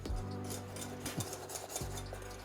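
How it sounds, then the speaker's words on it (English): Butter and sweet hot pepper mustard being stirred together in a pot over heat, a soft continuous scraping and stirring with a low sizzle underneath, close and brief, no talk. "we're going to get this mixed until the butter has completely dissolved"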